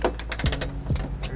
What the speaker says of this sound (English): We're using a 18mm socket to tighten down all these nuts.